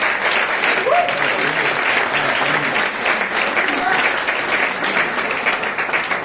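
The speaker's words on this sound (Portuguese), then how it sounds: "Você pode aplaudir ao Senhor pela vida dela." A church congregation applauds steadily and loudly throughout, a dense, sustained wash of clapping with brief voices mixed in.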